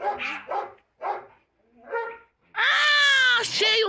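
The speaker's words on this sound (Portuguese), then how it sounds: "Vem cá, Tonho, vê o cachorrinho, Tonho." A small dog on a countryside property gives several short, sharp yaps separated by pauses, then a longer, high, strained bark-whine, close and fairly loud.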